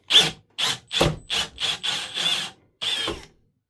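An electric drill boring through metal whirs in seven short, loud bursts, each starting and cutting off sharply, close by with no voices.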